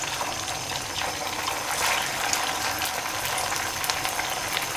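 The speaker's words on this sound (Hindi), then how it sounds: "तेल हमारा गर्म हो गया अच्छे से, और ये कटलेट्स हम डालेंगे।" Sabudana cutlets dropped into hot oil in a kadhai, a steady bubbling hiss of deep frying with crackling pops, close and continuous.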